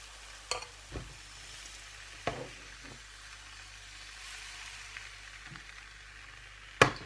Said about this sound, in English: Oil the pan a little bit and add the mixture.